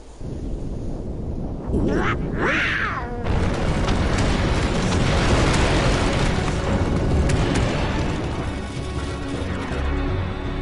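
Donald's fire spell in the Kingdom Hearts Final Mix video game, a loud booming blast followed by a sustained roaring, crackling rush of battle noise, with a voice speaking over it.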